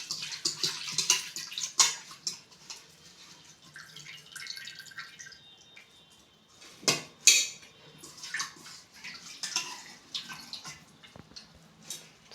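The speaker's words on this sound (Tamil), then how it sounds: "சிறுகீரை எப்பவுமே 1க்கு 2 வாட்டி நல்லா தண்ணியில் நல்லா அலசிக்கணும்." Water splashes and drips as siru keerai spinach leaves are swished around in a basin, with soft sloshing and occasional louder splashes, no voices.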